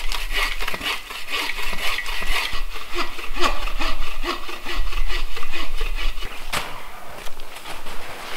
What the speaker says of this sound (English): I'm gonna saw this up into multiple sections and then we'll drag it back to camp.